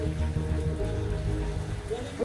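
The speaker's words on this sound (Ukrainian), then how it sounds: "дощ іде" Steady rain falls around an old Daewoo Nubira being filmed, a dense hiss of drops on surfaces that runs throughout the clip with no break.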